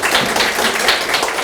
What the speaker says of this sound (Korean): 박정수 선배를 뜨거운 박수로 맞아주세요